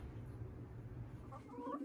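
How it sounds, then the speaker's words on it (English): Broody hens clucking softly in a few short, close calls near the end, over a steady low rumbling background hum. "I've got some broody hens"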